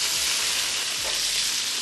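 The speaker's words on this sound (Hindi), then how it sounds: "थोड़ा सा इसमें ओरिगानो हम और तड़का देंगे ऑयल का" Hot oil tempering sizzles steadily over a Balochi mutton joint roast seasoned with oregano, a loud, close, continuous crackling fry with no voices.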